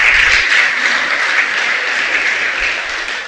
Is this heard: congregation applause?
yes